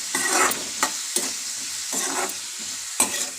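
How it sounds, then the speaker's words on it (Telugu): Salted onions and green chillies stirred in a pan, with a low frying sizzle under repeated scraping strokes of a spoon in an uneven rhythm, close and with no talk. "కొంచెం సాల్ట్ వేస్తున్నానండి, త్వరగా ఏగుద్ది. ఒకసారి కలుపుతున్నాను"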